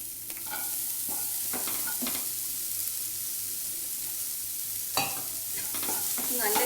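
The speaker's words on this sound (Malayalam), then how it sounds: "ഇനിയിപ്പോൾ നമ്മളിതിൽ കട്ട് ചെയ്ത് വെച്ചിരിക്കുന്ന കോളിഫ്ലവർ ഇട്ട് കൊടുക്കാം." Chopped cauliflower sautéing in spiced oil, a continuous soft sizzle broken by a few sharp spoon scrapes and clinks, with a cluster of stirring knocks near the middle and more toward the end.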